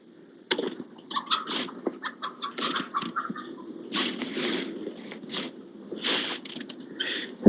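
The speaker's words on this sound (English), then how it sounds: "Those are guineas that are running around there." Farm guinea fowl and ducks call in rapid, irregular bursts of harsh chattering and squawks, fairly close and lively, with brief pauses between flurries.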